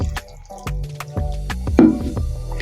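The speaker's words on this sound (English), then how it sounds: "So I have the water. I'm just going to pour in little by little." Water is poured little by little into a whole-wheat butternut chapati mash, making close, wet drips and squishy splashes in short irregular bursts.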